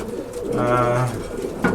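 A single low, rolling pigeon coo rises and fades up close, followed by a short rustle.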